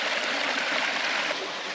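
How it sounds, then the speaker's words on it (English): A small mountain stream flows near a waterfall in the Drakensberg, giving a steady, close, broadband rush of water that continues evenly with no voices. "Now we're at the top here with a little stream and that beautiful waterfall coming down there"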